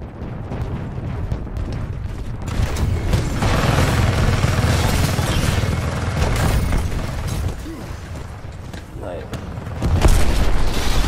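Titan mech destroyed in Titanfall 2 on PS4: a sustained, loud rumbling explosion with crashing debris, swelling midway and surging again at the end, under the clamor of a busy match.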